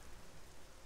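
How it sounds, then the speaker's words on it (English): Steady soft rain falls in the video game Xenoblade 2 Torna, a faint continuous hiss of drops without talk. "It's still raining."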